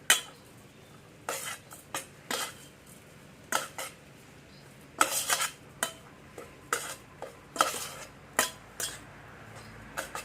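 Spoon scraping and clinking against a pan while roasted ingredients are stirred, irregular sharp clatters spaced across the clip, close and moderately loud with no talking.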